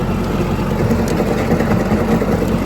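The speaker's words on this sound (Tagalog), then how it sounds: "Ang gamit nga pala natin ay Yanmar F155 na traktora." A Yanmar F155 tractor's diesel engine runs steadily up close, a loud, continuous low rumble with an even throb that neither rises nor falls over the few seconds, plowing soil on a mountain field.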